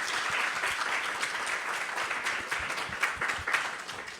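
Steady audience applause at a spiritual talk, dense crowd clapping sustained evenly throughout at moderate level.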